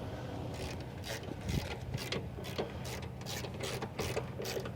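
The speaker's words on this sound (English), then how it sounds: "going to loosen these 3 bolts" Ratchet wrench loosening bolts on heavy machinery: a quick, steady run of close mechanical clicking and ratcheting, moderately loud, with no talk over it.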